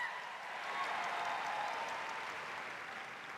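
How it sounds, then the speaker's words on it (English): A seminar audience gives sustained applause for speaker Mary Estupiñán, a soft, even roar of many hands at a distance with no breaks or standout claps. "Let's give her another huge round of applause"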